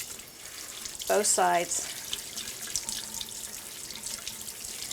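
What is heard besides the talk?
tap water washing a robot vacuum filter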